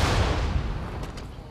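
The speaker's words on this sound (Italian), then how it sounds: "io gli sparo e la uccido, però forse faccio casino" A gunshot in the video game Nioh 2 opens with a loud, close burst that settles into a decaying, rumbling tail over a second and a half, with no voices.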